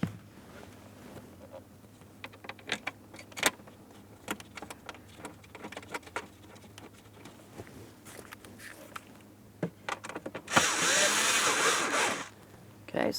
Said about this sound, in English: I'm actually going to start in both of my upper mounting bolts and lightly snug them up